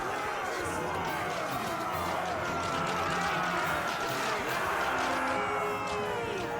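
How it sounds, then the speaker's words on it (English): Summoned skeletons in Mount and Blade II: Bannerlord cheer with a continuous dry clacking and rattling that sounds like a crowd, amid battle noise with a voice speaking over it. "All that clacking noise you hear are the skeletons cheering."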